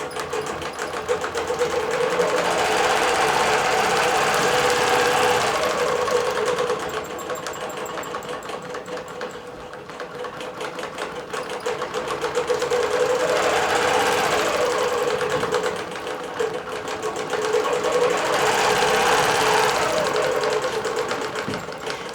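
A computerized quilting machine stitching a simple pattern across fabric, a loud close steady mechanical whir and rapid needle chatter that swells and eases in long cycles without pause.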